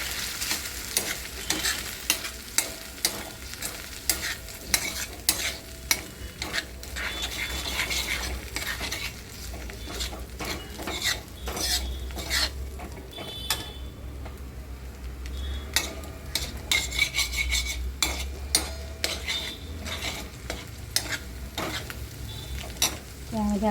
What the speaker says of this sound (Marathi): ह्या अंड्याला पूर्ण मॅश करायचं